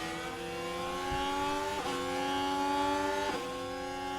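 An F1 car in F1 Manager 2024 pulls away at the start of the Belgian Grand Prix at Spa, engine whine climbing steadily in pitch through two quick gear changes, steady and moderately loud, with no voices.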